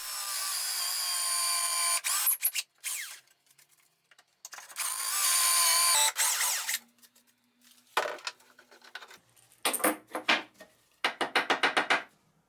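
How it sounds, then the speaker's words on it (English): A power drill bores dowel holes through a doweling jig clamped to wooden pieces, in several bursts of high whirring with short gaps between and a run of quick, choppy pulses near the end, close and alone. "I drill the dowel holes"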